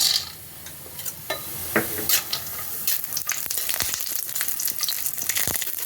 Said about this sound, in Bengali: এখন এই বড়িগুলো ভেজে নেব।